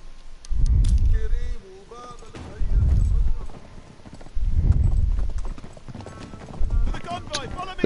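A horse galloping in Uncharted 3, with rhythmic heavy hoof clip-clops arriving in loud surges about every two seconds, alongside game effects and a voice talking over it.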